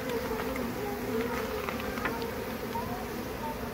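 Honey bees buzz around an opened hive as a comb is lifted out, a continuous close droning hum with shifting pitch from many insects, with faint handling noises.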